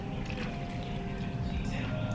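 Water poured into a pan of cooking meat and vegetables, a soft continuous trickle and sizzle layered over steady background noise, fairly close and brief.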